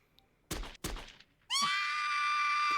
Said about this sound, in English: I heard a dry explosion in the distance, followed by a lady screaming.